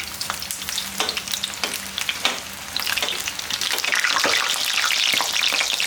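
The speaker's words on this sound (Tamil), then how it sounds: "இப்போ நல்லா ஒரு வாட்டி மிக்ஸ் பண்ணி விட்டுட்டு இதை எடுத்து வச்சு பொரிச்சிக்கலாம்." Gobi manchurian frying in hot oil, a dense close crackling sizzle that thickens and grows louder toward the end, with scattered spoon taps and scrapes as the pieces are turned; no one speaks.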